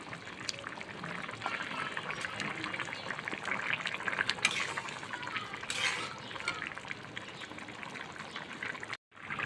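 Shingi fish added to a boiling spice masala, a steady bubbling and sizzling simmer with wet splashes and stirring, moderately close and uninterrupted by talk.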